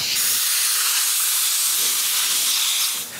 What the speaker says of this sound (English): When I'm done, I blow compressed air to remove all the wood filler.